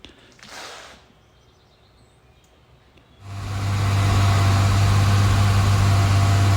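A BMW E30 325iS sits quiet for about three seconds, then its engine fires up and settles into a loud, steady, close-up idle with a deep, constant drone.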